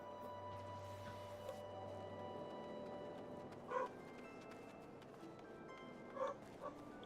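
A dog barking, a few short barks spaced apart at moderate distance over a steady background hum and music.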